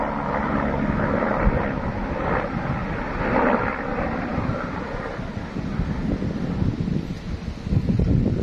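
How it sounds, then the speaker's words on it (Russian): A helicopter passes overhead outdoors near Dmitrov, heard as a steady broadband rotor and engine roar buffeted by strong wind noise across the mic, with no talking. "Вертушка!"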